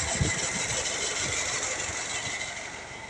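A motorcycle engine churns through knee-deep flood water during the 2023 Kelantan floods, a steady mid-pitched running drone close by with low splashy rumbles, no talk over it.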